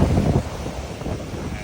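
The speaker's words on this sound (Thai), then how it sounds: "วันนี้ก็ลมแหงหลาย" Strong wind buffets the microphone on a Gulf Coast beach at Anna Maria Island, Florida, a loud, steady low rumble with gusty swells throughout and no voices.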